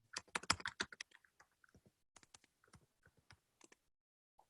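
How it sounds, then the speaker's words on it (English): Keys clatter on a computer keyboard in quick bursts of clicks, with short pauses between runs of typing, close and alone without speech. "So I'm just typing in the instructions."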